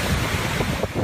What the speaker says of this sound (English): the strong winds drove water from the Gulf across the seawall, flooding a roadway